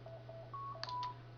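A telephone keypad dials a short run of DTMF beeps, a few tones in quick succession, close and moderately loud over a steady low electrical hum, with no talking.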